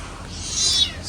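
A short, high-pitched meow from a small kitten, close by, rising briefly over faint background noise.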